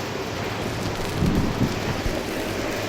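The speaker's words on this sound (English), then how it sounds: "of course fucking wind picks up right now." Wind blowing outdoors during clear coating of a Honda Civic, a constant broad rushing roar with a brief louder gust in the middle.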